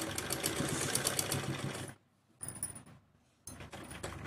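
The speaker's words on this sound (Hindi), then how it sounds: "अब इसके ऊपर सिलाई लगानी है। सिलाई को पक्का करके लगाएंगे।" Sewing machine stitching fabric for men's shorts, a rapid close whirring chatter that runs for about two seconds, stops, then comes back in two shorter bursts separated by quiet.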